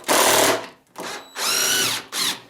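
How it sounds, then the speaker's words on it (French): A power drill unscrewing a screw from a wooden plank for a raised garden bed, four loud whirring bursts of the motor with short pauses between them, close, no talk. "vous dévissez"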